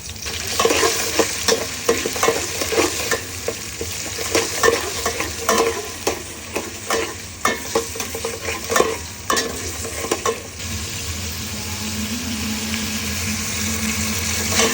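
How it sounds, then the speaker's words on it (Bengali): Onions frying in a pot with ginger and garlic, with steady loud sizzling and repeated stirring scrapes through most of the stretch, settling into a continuous frying hiss toward the end. "দেখেন পেঁয়াজ কিন্তু বসাই দিচ্ছি এখন আদা রসুন দিয়ে দিব"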